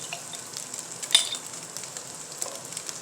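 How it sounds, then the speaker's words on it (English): Sausage sizzling in melted bacon grease in a pan, a steady fine crackle with one brief sharper pop partway through, close and moderately quiet with no talk. "I'm going to add a little bit of bacon grease to this sausage"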